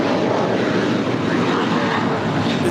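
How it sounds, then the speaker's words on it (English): A five-year-old JetBlue Airbus A321 taking off from LAX runway 25 right, a steady, loud, broadband engine roar that holds constant throughout, heard alone without talk. "This next departure is taking a mental health day, departing to Boston, flight 1388. It's a 5-year-old Airbus A321."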